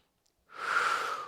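One deep, steady breath drawn in a workout session. Close and breathy, it starts after a short silence and holds evenly to the end.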